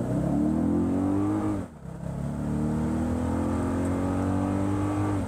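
A 2024 Toyota Grand Highlander in sport mode pulls away hard from a brake-torque launch, its engine droning and rising steadily, dipping briefly at a gear change around the midpoint before climbing again, loud and close from inside the cabin.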